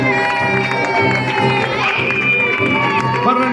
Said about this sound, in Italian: L'applauso per Marlene Reusser.